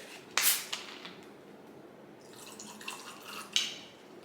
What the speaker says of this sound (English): And then I kind of just top it with the tonic water.